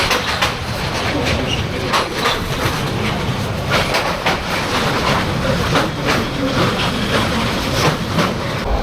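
A local passenger train rumbles along the rails with a steady rattling clatter and rhythmic wheel clicks, continuous and fairly loud throughout.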